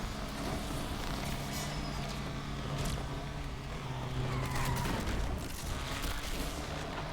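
In a Need for Speed race, a Polestar 1 luxury car micro-drifts, its engine roaring steadily with rough bursts of skidding tyre noise, loud and without talk.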